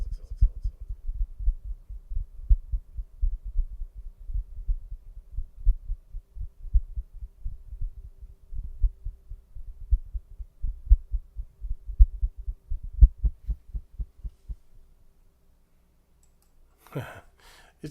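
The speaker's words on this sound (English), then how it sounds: "It's supposed to sound like a heartbeat." A heartbeat-like sound effect thumps in a steady, low, soft double-pulse rhythm for about fifteen seconds, then stops before a brief rustle at the end.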